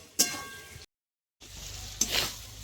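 Radish and potato frying with spices in a pan for a katla fish curry, giving a soft steady sizzle with two sharp clinks of stirring against the metal and a brief silent break between them.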